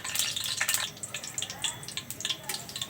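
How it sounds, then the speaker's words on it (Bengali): Bay leaves fry in mustard oil with close, crackling pops and spatters in irregular bursts over a low hiss. "তেজপাতাগুলো ভেজে নেব।"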